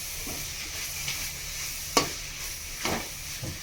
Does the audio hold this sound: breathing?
no